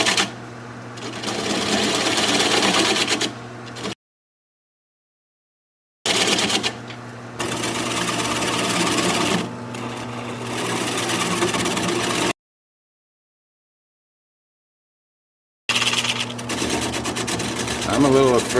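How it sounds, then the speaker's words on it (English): Wood lathe spinning at about 500 RPM while a 3/8 inch spindle gouge slowly cuts away the tenon on a fragile, bug-holed junk wood bowl. A steady, close motor hum with cutting noise runs in three stretches separated by silent gaps. "Go with a 3/8 inch spindle gouge and just slowly remove that tenon."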